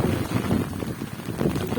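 Strong gusty wind with rain blasts the microphone outdoors near a cemetery in a storm, a loud, rumbling roar through the whole short stretch.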